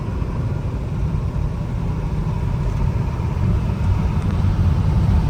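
Low, steady rumble of a 1969 Camaro Z28 on the move, the old engine droning evenly beneath road and tire noise on worn, flat-spotted tires, with no talk over it.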